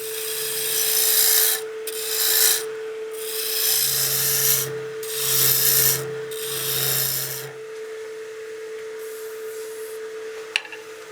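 A wood lathe takes light cuts on a baseball bat, a raspy scraping in several bursts over a steady motor hum, then just the lathe running alone.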